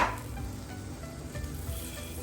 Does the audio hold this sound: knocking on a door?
no